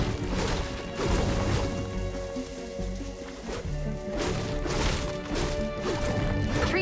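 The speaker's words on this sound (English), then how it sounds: "Try smashing up some cars and trees." Cars and trees being smashed in Fortnite Save the World, repeated sharp crashing impacts over steady game music and ambience, loud and close.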